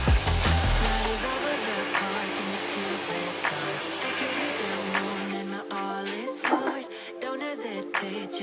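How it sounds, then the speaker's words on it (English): Axminster Energy sander working a Zebrano wood bowl, a steady close whirring hiss that runs for about five seconds before cutting off, leaving quieter background sound. "is the Energy sander from Axminster. It's really good for sanding bowls"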